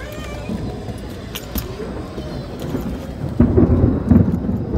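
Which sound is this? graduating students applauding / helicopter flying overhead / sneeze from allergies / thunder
thunder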